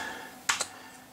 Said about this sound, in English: I've put a +4 keyboard on here instead of the 116 one because it's a bit easier to type on.